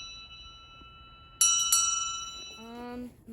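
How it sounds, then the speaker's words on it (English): A hand-rung bell strikes twice in quick succession, bright and close, its metallic tone ringing on and decaying, followed by a brief voice, over a faint sustained hum. "I'm ringing your bell."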